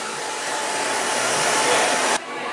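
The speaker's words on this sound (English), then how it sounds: "if you want to use top-of-the-line blow dryer, this is the blow dryer to use" An eco-friendly hair blow dryer runs loud and close, a constant whooshing roar that swells slightly before dropping abruptly to a lower setting near the end.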